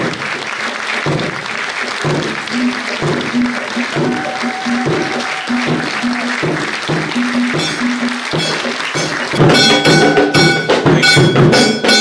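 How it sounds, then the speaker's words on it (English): Audience applause at a keynote address during an African summit at St Andrews, steady clapping that runs throughout and grows louder toward the end, with voices mixed in. "I would like us to give a resounding round of applause to His Majesty the King"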